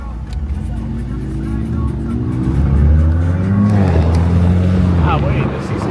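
A Mercedes C63 engine runs loud and steady with a deep, rising rumble among other performance cars, including an M3, M4 Competition, GT63S and RS7, and people talk over it.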